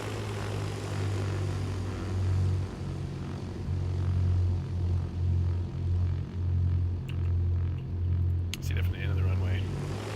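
Twin engines of a Beechcraft Duchess 76 in the X-Plane 11 flight simulator, a steady low propeller drone that pulses gently in volume, with a few faint clicks near the end.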